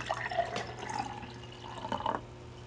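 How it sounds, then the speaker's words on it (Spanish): Water drips and pours close by for ASMR, with faint trickling, small splashes and rising gurgling tones as liquid fills, quiet and intermittent. "ASMR de agua."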